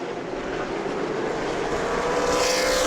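Super late model stock cars race at New Smyrna in a 100-lap contest, their engines blending into a loud, steady roar that swells slightly as the pack runs on.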